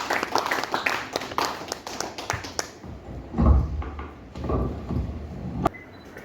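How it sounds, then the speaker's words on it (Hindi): An audience at a kavi sammelan poetry gathering during a meditation and poetry festival in Khajuraho applauds to welcome the poet Anuradha Pandey. A dense run of claps fills the first few seconds, then thins into scattered, quieter claps and taps. "आप लोग घनघोर तालियों से उनको आमंत्रित करें"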